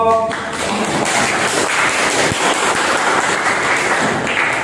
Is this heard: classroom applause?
yes